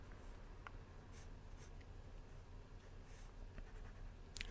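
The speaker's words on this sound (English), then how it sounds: "So I'm drawing the torso here, and then I'm drawing the pelvis back here." A pencil or pen drawing a figure on paper, with faint scratchy strokes in short bursts against a quiet background hiss, no voices.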